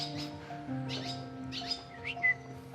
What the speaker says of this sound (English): Their chirping sounds add to the atmosphere.